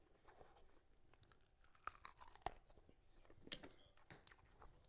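Crispy, unseasoned baked chicken wings crunch when bitten, giving a few sharp, close crackles and chewing sounds, faint and with no talk.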